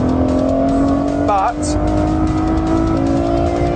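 Ferrari F12 Berlinetta engine droning at steady high revs with a brief pitch sweep as it accelerates, loud and close, with someone talking over it.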